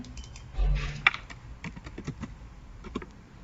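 Computer keyboard typing for a copy and paste shortcut, a few sharp, close key clicks spaced irregularly over quiet room noise, with one louder thump early on.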